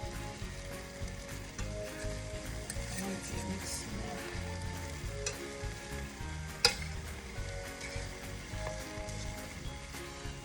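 Shrimp and minced garlic frying gently in a pan, a soft continuous crackling sizzle with light pops, one sharper clink partway through.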